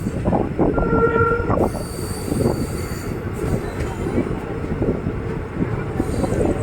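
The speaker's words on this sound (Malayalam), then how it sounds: "ഇപ്പോൾ ഇവിടെ ട്രെയിൻ നിർത്തും ബാംഗ്ലൂർ ജംഗ്ഷനിൽ" A train rolls into Bangalore junction and slows to a stop, wheels grinding and squealing on the rails with steady rumble, brief tonal horn-like squeals and hiss, heard close from onboard, with faint voices in the background.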